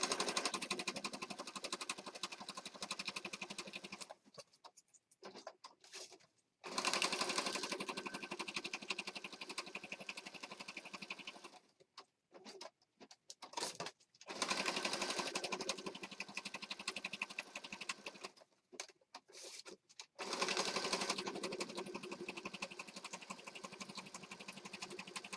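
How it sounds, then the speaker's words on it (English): An electric sewing machine stitches around a paper junk journal page with a steady whirring hum in long runs of several seconds, broken by short pauses and brief stops as the page is turned. "I'm going to stitch around this."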